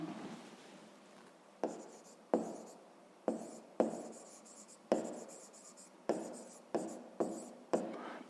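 Pen strokes on paper while working a fifth-grade math exercise, a series of close, quiet scratching bursts in an irregular rhythm with short pauses between, alone without talk.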